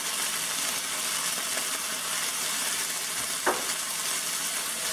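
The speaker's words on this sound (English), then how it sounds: "I'm going to go ahead and add my garlic." Garlic sizzling steadily in a hot pan alongside meatballs, a continuous close frying hiss with a brief stir or scrape partway through.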